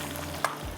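Onions being stirred as they fry and brown in a pan, a steady close sizzle with one brief utensil tick in the middle.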